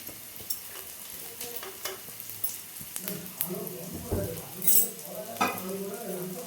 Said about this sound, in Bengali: পেঁয়াজ কুচি আর রসুন কুচি দুটোই ভেজে নেবো